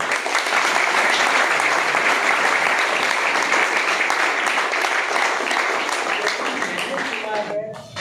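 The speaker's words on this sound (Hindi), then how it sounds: "एक बार जबरदस्त तालियां" A large audience claps steadily at a Modicare network-marketing meeting in Hisar. The dense, sustained applause fills the whole stretch and thins out only in the final moment.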